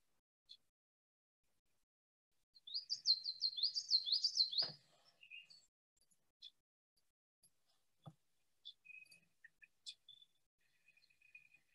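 A high, quick warbling bird song lasting a couple of seconds, followed by scattered short chip notes in an otherwise quiet setting.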